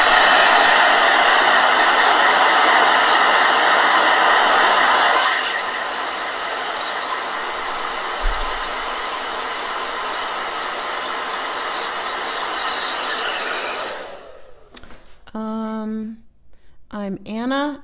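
A hair dryer blows loudly and steadily for about fourteen seconds, dropping in intensity partway through before switching off, after which a person begins speaking.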